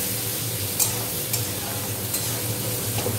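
Whole garam masala spices and a bay leaf fry in hot oil while being stirred, a steady close sizzle broken by a few light scraping stir strokes, with no talking.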